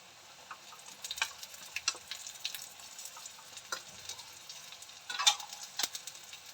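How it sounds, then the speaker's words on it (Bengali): Paste of dried and green chillies, ginger, onion and garlic sizzling in a pan for spicy chicken curry, steady frying crackle with repeated scraping stirs of a spatula, close and moderately loud. "মশলাটা ভালো করে কষবো আমি এবার"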